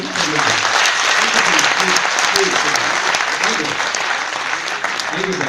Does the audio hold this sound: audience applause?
yes